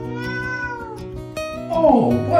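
A curious, playful kitten meows up close in a few drawn-out calls, the last one louder and more strained, with no talking over it.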